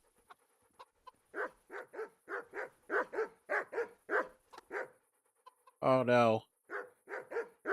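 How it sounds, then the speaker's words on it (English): Dogs bark repeatedly in a medieval village in Kingdom Come: Deliverance, steady loud woofs with a rooster-like cluck among them, while someone briefly speaks. "He's got dogs, which I worry about."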